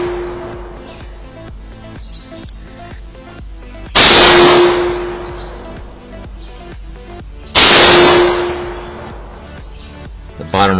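Rifle rounds, including M80A1 ball and M2 armor-piercing, striking a Level III+ armor plate at a range: two sharp, loud impacts with ringing decays stand out over steady background noise, and a voice speaks between them.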